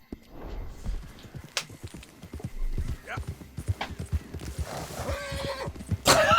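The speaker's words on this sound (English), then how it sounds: "That horse noise." Horse sounds from the video game Red Dead Redemption II: close clip-clopping hooves in an irregular gait, then a sharp whinny, mixed with game ambience and brief voices talking over it.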